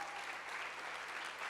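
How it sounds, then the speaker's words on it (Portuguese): Church congregation applauding at a worship service, a steady, dense wash of clapping that fills the whole short stretch at an even level with no break. "Dá uma salva de palmas aí em nome de Jesus."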